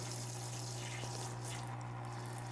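A small electric pump on a BikeMaster portable parts washer sprays water, a steady hiss and splash over a constant low motor hum, close and continuous.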